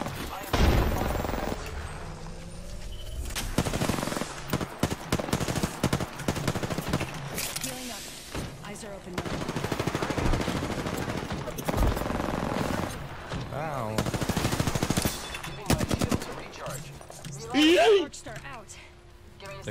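Apex Legends gunfire comes in repeated automatic bursts and scattered shots, loud and close, with people talking over the shooting throughout and a short electronic warble near the end.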